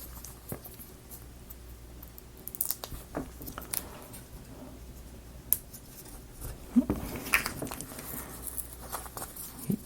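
Adhesive foam feet being peeled off their backing sheet while assembling a marble run, with faint papery crackles and a few sharp ticks and peeling rips, quiet and close against a low background hum.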